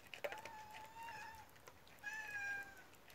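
A cat meowing close by, two clear drawn-out meows about a second apart with light background rustling, no talk.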